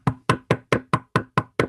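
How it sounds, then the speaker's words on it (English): Eight sharp knocks on a wooden door, played as a sound effect in a reading of Shakespeare's Macbeth, evenly spaced and loud at close range with no voices over them. "I hear a knocking at the south entry"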